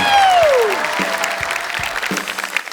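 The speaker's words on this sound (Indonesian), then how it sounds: "Tepuk tangan Komik dulu" Studio audience applauding at the Komik Celebrity stand-up comedy competition, a loud, dense wash of clapping that carries steadily through, with a descending musical sweep at the start and a few bass thumps beneath.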